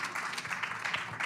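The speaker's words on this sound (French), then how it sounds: "je pense qu'on peut la féliciter, l'applaudir" An audience applauds at a tech event, a faint, distant wash of clapping that runs steadily through a brief moment.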